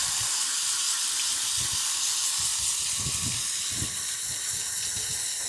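A garden hose sprays water steadily onto air conditioner coils, a broad, even hiss that stays loud and close throughout with faint low rumbles beneath.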